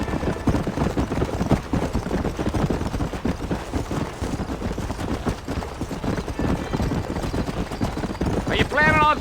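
Horse hooves clip-clop steadily in Red Dead Redemption, a continuous rhythmic trot under game music and ambient noise, with a brief whinny near the end.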